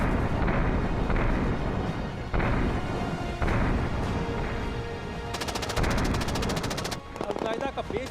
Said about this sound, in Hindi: अगर आप देखें सीधा आरपीजी फायर किया गया और अब यहाँ से फायर किया जा रहा है उस पोजीशन पे